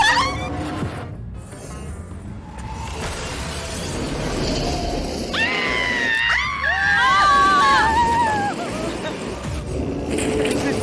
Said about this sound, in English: Screaming.